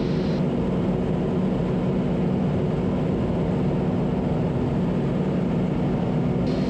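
Cabin drone of a Cessna T210M Centurion engine during a climb, a steady loud low-pitched propeller and engine roar with no pauses.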